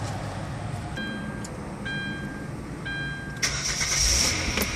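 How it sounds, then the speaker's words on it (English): A Hyundai Santa Fe waits after a transmission fluid change while three short electronic chimes sound at even intervals, then its engine cranks and catches near the end with a brief surge into a running rumble. "We're just gonna turn the car on, let it warm up"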